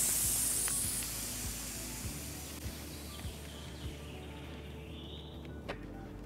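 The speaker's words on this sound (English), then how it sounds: "since we're already in inflate mode, you can bring your tire up to the desired pressure" A Topeak JoeBlow Booster floor pump inflates a tubeless bicycle tire, giving a continuous airy hiss that is loud at first and then fades to a softer rush, with a few faint clicks and light taps throughout.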